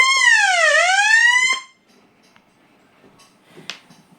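A conventional fire alarm panel's loud electronic sounder wails in a rapid rising-and-falling sweep for about a second and a half, then cuts off, leaving faint clicks and rustles.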